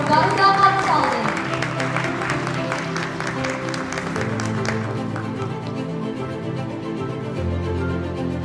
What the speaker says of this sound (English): Let's give a round of applause for Garuda Consultant.